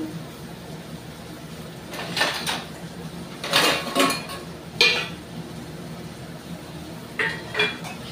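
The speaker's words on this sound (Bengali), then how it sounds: "পাত্রের মধ্যে নিম বেগুনটাকে তুলে নিই।" Fried neem leaves and eggplant scooped from a pan into a small bowl: a few bursts of metal spoon scraping and clinking against cookware, spaced apart over a quiet background, close and fairly loud, with no talking.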